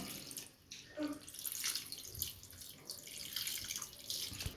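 A little water poured into a cooking pan of cauliflower, peas and potatoes, a soft splashing trickle with faint sizzling, fairly quiet and close.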